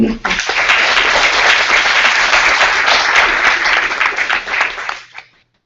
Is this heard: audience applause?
yes